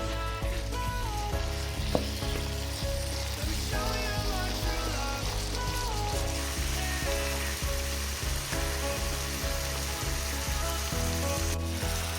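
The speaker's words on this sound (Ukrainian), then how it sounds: "вливаємо олію та будемо обсмажувати нашу курочку" Chicken sizzling and frying in oil in a pan, a steady, loud crackle running the whole time, with occasional clinks and stirring, and no one speaking.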